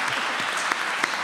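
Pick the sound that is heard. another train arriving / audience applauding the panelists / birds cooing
audience applauding the panelists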